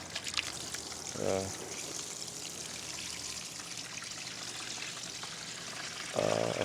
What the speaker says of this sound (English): you need the hot water or warm water with this. Let's dump it inside.